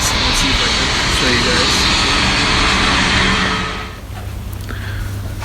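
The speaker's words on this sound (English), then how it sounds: "I think there's an airplane about to go by" A jet airplane roars loudly and steadily nearby at Stockholm Arlanda Airport, then fades away after about four seconds. A low rumble stays underneath.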